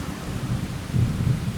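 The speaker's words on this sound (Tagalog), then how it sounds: "Mas malakas na yung ulan." Heavy rain and rumbling thunder during a night highway ride, a loud continuous low roar that swells near the middle, with no voices.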